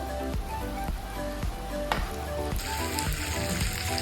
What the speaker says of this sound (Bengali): আমি এখন গ্যাসটা বাড়িয়ে মাংসগুলো লাল লাল করে নেব